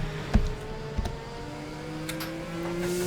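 A race car engine heard onboard at Zandvoort, whining steadily and rising in pitch through a gear, with a couple of sharp knocks near the start, moderately loud and alone.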